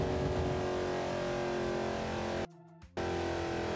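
Dodge Challenger Demon 170 engine in BeamNG Drive, a loud sustained roar at high speed on a back road, broken by a brief half-second dip midway before the drone returns.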